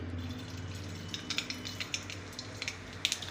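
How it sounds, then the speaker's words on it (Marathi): Mustard seeds crackle and sizzle in a spoonful of hot oil in a kadhai while upma is being made, with scattered sharp pops over a steady low frying hiss, close and moderately quiet. "कढईमध्ये मी एक चमचा तेल गरम करून घेतले आहे यात घालायची आहे मोहरी"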